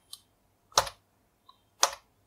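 Typing on a computer keyboard during live Linux kernel coding, a few sparse, crisp key clicks in two pairs, close and fairly quiet in an otherwise silent room.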